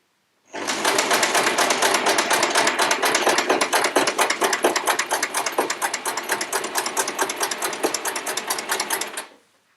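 A sewing machine stitches quilt pieces in one continuous rapid run, its needle chattering in a fast, even rhythm at close range for several seconds before it stops abruptly, with no voices.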